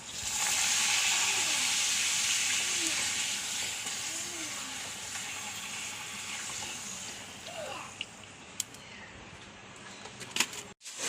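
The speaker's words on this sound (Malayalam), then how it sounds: "ഇനി പപ്പടം വറക്കാദ്യം." Pappadam fries in hot oil with a loud hissing sizzle that slowly fades, followed near the end by a few sharp clicks and knocks.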